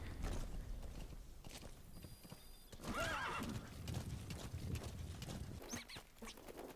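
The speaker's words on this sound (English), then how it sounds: "you can recall your horse and continue with your journey" A horse's hooves clip-clop on the ground and it whinnies once partway through in Metal Gear Solid V, with faint mechanical game sounds in the background.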